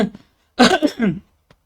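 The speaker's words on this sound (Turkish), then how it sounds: "Kusura bakmayın bir öksürük tuttu." A single close, harsh cough broken into a few rough bursts, loud against near silence, with a faint click afterward.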